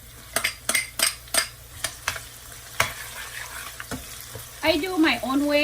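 Onion stirred into hot oil with golden garlic, spoon scraping the pan in a run of sharp knocks and scrapes, then a loud sizzle rising as the onion hits the oil near the end; nobody speaks.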